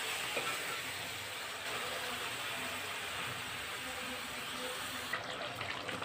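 Duck roast stirred into masala in a pan on the stove, giving a steady, close sizzling hiss with faint scraping that runs evenly throughout.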